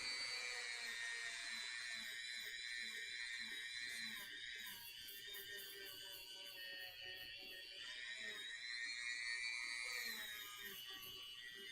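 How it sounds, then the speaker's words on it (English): A Dremel rotary tool cleaning up seams on a build, heard as a faint high whine with shifting pitch running throughout, low in level and steady. "I'll plug in my Dremel. We'll do just a little bit of cleanup on all these seams"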